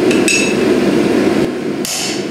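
A blacksmith's hammer strikes metal several times with sharp ringing clangs over a loud background hum, with no voices.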